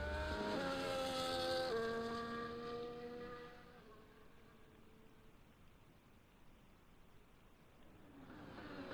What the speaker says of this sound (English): the sound of the cars sound like Formula 1 cars